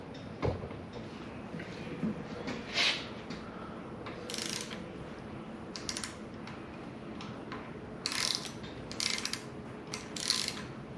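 A wrench ratchets in short, separated bursts while tightening a rocker arm nut on a pushrod of a Chevrolet 5.7 Vortec V8, close up in a quiet workshop with a low background hum.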